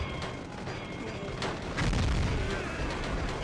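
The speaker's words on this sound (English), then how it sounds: "it's up here that I always used my first demolition shot, the death blow" A demolition shot death blow attack from the Gungrave video game erupts as booming, gunfire-like blasts over a dense game soundtrack, swelling louder in the second half.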